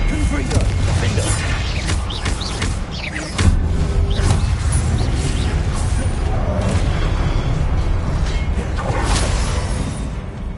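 Repeated Confringo spell explosions in Hogwarts Legacy, booming and crashing over a dense, continuous bed of game effects and whooshes, with a voice shouting spell names throughout.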